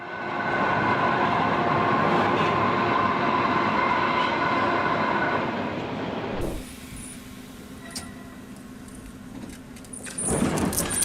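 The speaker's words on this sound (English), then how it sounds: "The historic Kaiser wagon travels along Wuppertal's suspended railway, hanging beneath the track as it moves." A historic Kaiser wagon hangs beneath the track of the Wuppertal suspended railway. A loud, steady rolling rumble fades after about six seconds to a quieter hum, then a short burst of clattering follows.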